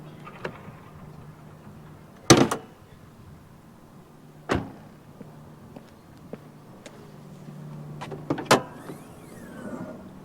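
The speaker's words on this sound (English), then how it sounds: "now that those are down, we can pop the hood" The hood of a 2023 Dodge Charger King Daytona is released and opened, with a few sharp clunks and clicks spaced apart over quiet background noise.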